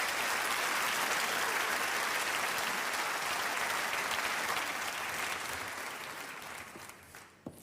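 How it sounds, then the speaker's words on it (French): A live audience applauds volunteers called up for a difficult stage challenge, a dense, steady wash of clapping that holds for several seconds before gradually thinning and fading toward the end. "On peut les applaudir, parce que ça va quand même être une épreuve très difficile pour eux."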